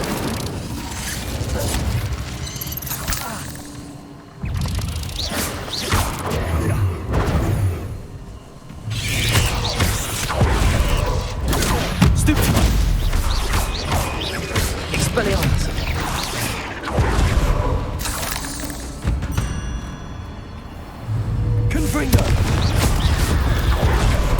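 Spells cast in combat in Hogwarts Legacy, with Stupefy and Incendio among them: a busy run of booming blasts, crackling bursts and mechanical clatter fills the whole stretch, close and loud, while a voice speaks over the fighting.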